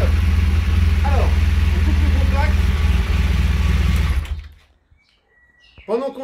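Used motorcycle engine idling with a steady, even rhythm, loud and close, then cut off abruptly, leaving near silence before a brief rustle at the end.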